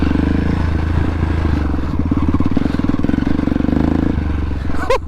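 A KTM motorcycle engine running loud and close, a throbbing mid-range drone with pulsing revs and some clatter, ending in a quick rising rev, with a voice faintly underneath.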